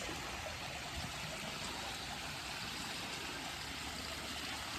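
Steady running water flowing continuously, a constant rushing wash with no pauses and no voices.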